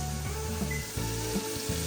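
Chopped tomatoes fry in hot oil in a pan with a steady, dense sizzle, and faint stirring scrapes recur throughout.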